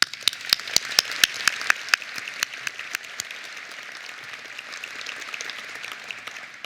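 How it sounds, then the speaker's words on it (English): Scattered applause from a commencement audience, individual sharp claps standing out over a softer bed of clapping that thins toward the end. "Let's also give them a round of applause."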